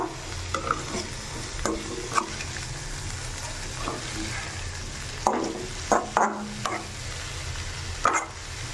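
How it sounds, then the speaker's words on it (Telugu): Eggplant fry cooked Rayalaseema style sizzles steadily in a pan while a spoon stirs it, scraping and clinking against the metal in intermittent close, crisp strokes over the soft constant frying hiss. "ఈ ఫ్రైని బాగా ఇలా కలుపుకుంటూ ఉంటే బాగా ఉడుకుతూ ఉంటాయి"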